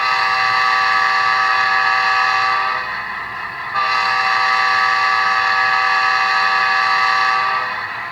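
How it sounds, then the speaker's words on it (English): Rapido FL9 model locomotive sounding its K5LA horn and Hancock air whistle, two sustained loud blasts with a brief break between them, no voices. "the horn, both a K5 LA"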